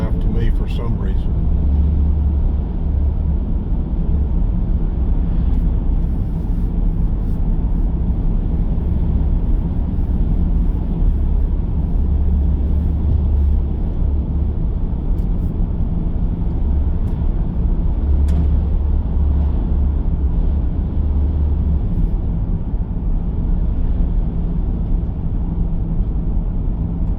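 A car driving down Old US Highway 441 from Tallulah Falls, Georgia: steady low road rumble and engine hum throughout, constant and close, with someone talking over it.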